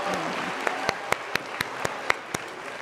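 At an outdoor university commencement ceremony, a few distinct, evenly spaced claps ring out over a quiet background, a light, sparse patter rather than full applause.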